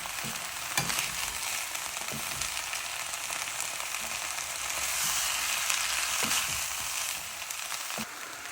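Mixed vegetables sprinkled with ground black pepper fry in a pan for crunchy vegetable spring rolls, a steady close sizzle broken by scraping stirs roughly every second.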